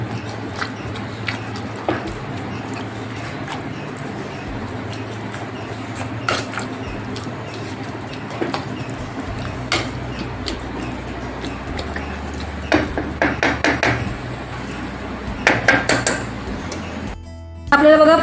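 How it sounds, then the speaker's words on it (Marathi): Pav bhaji vegetables mashed with a masher in a pan: repeated soft thuds and metallic clinks in an irregular rhythm, close, with light clatter of utensils. "आता या स्मॅशरच्या साहाय्याने आपल्याला अशा पद्धतीने अशी स्मॅश करून घ्यायची भाजी."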